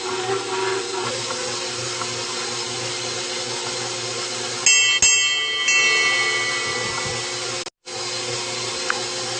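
A stand mixer churns wet, soupy sourdough dough with a steady motor whir and rattle, shifting to a higher whine midway, then a brief cutout before it resumes, with no talk.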